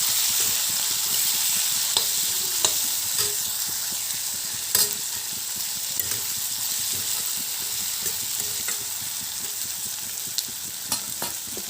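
Meat curry with potatoes (pigeon meat) sizzling in a pan as salt is added and it is stirred, with a steady frying hiss and scattered scraping clicks of the spoon throughout.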